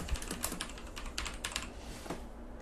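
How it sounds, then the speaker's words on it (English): Quick, steady typing on a computer keyboard, with soft close key clicks in an irregular run throughout and no voices. "type in your heading"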